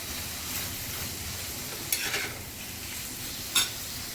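Dried prawns and onion fry with turmeric as the mix is stirred through, a low continuous sizzle with a couple of sharp scrapes of the spoon against the pan, no voices.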